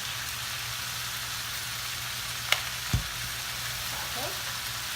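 Sugar peas and shrimp stir-frying in a pan for a Filipino Kapampangan dish, a steady close sizzle with a couple of sharp utensil knocks near the middle.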